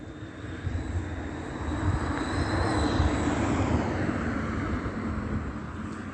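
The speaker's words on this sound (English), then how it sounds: "Here's another plane." A fixed-wing airplane passes over a residential street at night, a broad engine roar that swells gradually to a peak midway and then holds steady, loud and continuous with no talk.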